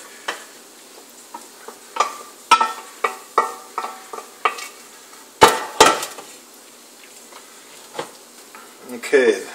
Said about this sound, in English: Now I'm going to add the rest of my macaroni in there.